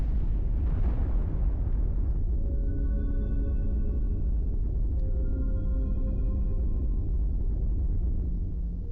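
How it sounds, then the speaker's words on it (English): An explosion in the video game Castlevania Legacy of Darkness: a loud, sustained rumbling blast with steady heavy low roar, while thin tonal game music tones play over it throughout. "These two are going to spark and explode."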